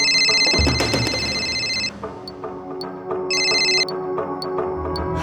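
An electronic phone ringtone trills in two bursts with a gap between, over a busy background of soft clicks and low rumble.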